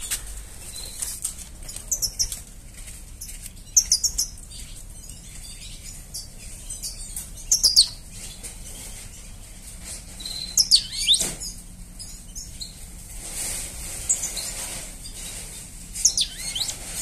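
Small cage birds, cardinals and mixed finches, give scattered high chirps and tweets with bursts of wing fluttering, fairly quiet and close in an otherwise calm room.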